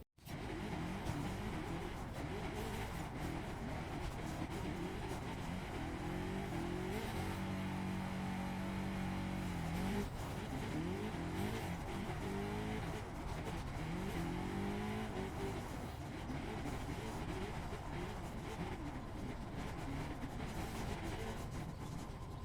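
Car engine from the 2014 racing game The Crew, driving up a coast road: a steady, continuous motor drone with rising and falling revs through gear shifts, loud and close, no voices.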